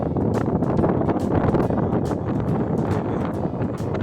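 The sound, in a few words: strong wind blowing at Lakshman Jhula, Rishikesh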